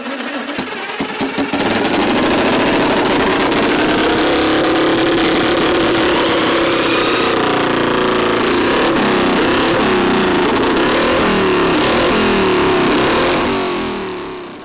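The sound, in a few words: classic racing motorcycle exhaust revving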